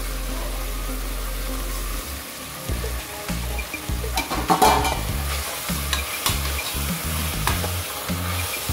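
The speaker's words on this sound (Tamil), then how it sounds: "இப்போ தக்காளி நல்லா வதங்கி வரட்டும்" Tomatoes sauté in a pan for chicken biryani, a continuous sizzle with irregular stirring scrapes and clacks of a spoon, close up, busier after the first couple of seconds.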